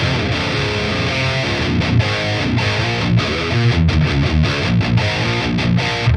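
A heavy, distorted electric guitar through an unboosted high-gain amp plays chunky low riffs with sustained chords, loud and close, no voices.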